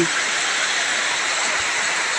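Floodwater runs and spills during a rainstorm, a dense, continuous rushing hiss of water and rain that holds steady and loud throughout, with no voices heard.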